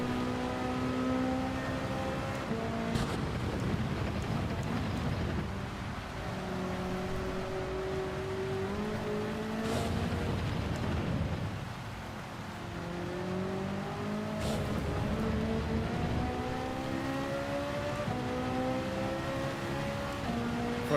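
A race car in a video game laps a wet Red Bull Ring, its engine revving and dropping through gear changes, with tyre hiss and sliding on the rain-soaked track, continuous and fairly close.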